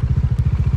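A motorcycle engine running close by, its rapid even exhaust pulses thumping in a steady loud rhythm for under a second.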